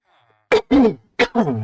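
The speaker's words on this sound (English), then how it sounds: "I need to cough" Two pairs of sharp, throaty coughs, close and loud, separated by a short pause.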